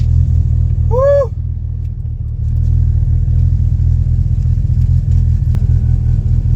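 A Mitsubishi Evo 8 running 30 PSI of boost drones loudly with a deep, steady engine rumble, and a short rising whistle cuts in near the start.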